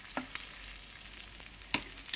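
Spices tempering in hot oil for a radish chutney served with pongal, a continuous close sizzle and crackle with a few sharp pops and stirring clicks, no voices.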